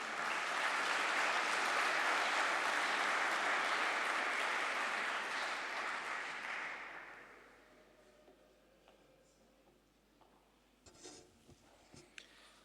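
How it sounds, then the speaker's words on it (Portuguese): Conference audience applauds as a deputy energy secretary walks onstage, dense clapping loud for several seconds, then fading away into a quiet room with a few faint knocks and rustles near the end. "Peço uma salva de palmas"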